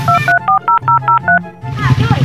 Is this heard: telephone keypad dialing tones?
yes